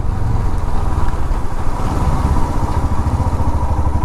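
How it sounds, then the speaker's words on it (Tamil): A motorcycle engine rumbles steadily up close, a continuous low, throaty drone with a faint rattle and no pauses. "சரி பைக் ஓட்டுவோம், எடுத்து ரொம்ப நாள் ஆச்சு."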